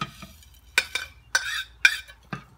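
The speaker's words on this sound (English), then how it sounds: "Give it a quick mix." A spoon stirs Worcestershire sauce, vinegar and a smoky dry rub in a bowl, giving about five sharp clinks against the bowl with soft swishing between them, close and unaccompanied.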